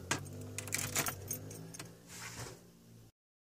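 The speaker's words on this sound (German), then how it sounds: "Dann steck ich minge Schlüssel in het Schloss." Car keys jangle and scrape as they are pushed into a car door lock before driving: a close, bright metallic rattle with several clicks in the first second, then softer fumbling that fades before a sudden cutoff.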